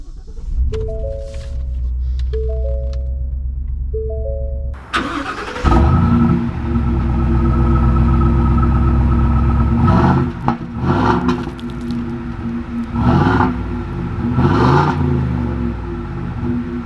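A 2020 Ford F-250 pickup with the 7.3-liter gas V8 sounds repeated electronic chimes inside the cab, then the engine cranks and catches into a loud, deep idle, followed by several revving surges as the truck pulls away.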